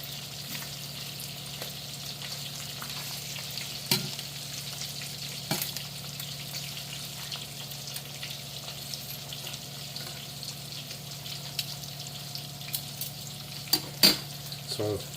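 Carnitas frying until crispy in a pan seasoned with turmeric, garlic, garam masala, cinnamon and nutmeg: a continuous soft sizzle under occasional scraping stirs and a few louder utensil knocks against the pan.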